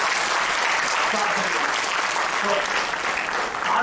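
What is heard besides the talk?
audience clapping at a lecture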